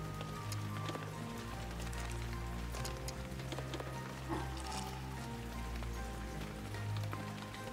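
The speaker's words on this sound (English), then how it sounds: "the rain is still coming down anyways" Rain in Shenmue III keeps up a constant hissing patter over a low hum, with faint taps and small knocks scattered through it.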